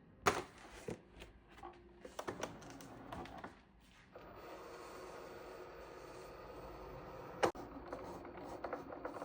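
A cutting machine works through glitter cardstock, giving off a faint, continuous mechanical whir and scraping as the blade traces an outline, with a few clicks and taps at the start.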